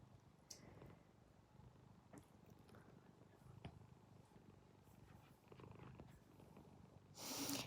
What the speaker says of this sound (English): And she's purring away.